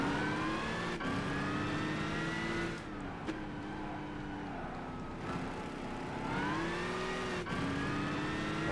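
A car engine in the Gran Turismo 5 racing game revving hard under throttle, rising in pitch through the gears with short dips at each shift, steady and prominent throughout.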